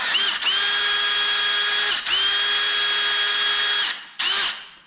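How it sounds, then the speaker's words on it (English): A power drill fitted with a reamer whines at high speed, boring into a homemade carp fishing baiting pole in three close bursts separated by short pauses, the last one cut off quickly. "So I've been going down to about here with a reamer."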